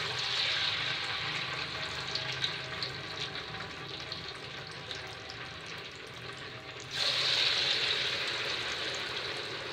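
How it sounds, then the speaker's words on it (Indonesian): Crispy tofu frying in hot oil, a steady dense sizzle and hiss that runs throughout and swells louder near the end, with no talk. "Waktunya kita goreng."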